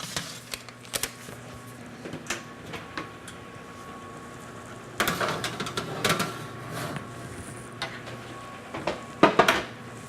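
A metal baking tray of vegetables tossed in avocado oil and salt goes into a kitchen oven, with scattered light clanks and clatters and a louder burst of metallic knocks partway through and again near the end.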